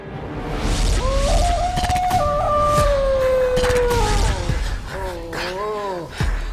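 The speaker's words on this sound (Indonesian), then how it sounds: "Kenapa banyak sekali lolongan serigala?" Wolves howling in a long, loud, close howl that rises and holds for several seconds, followed by shorter wavering howls, with breathy gasps and background noise around them.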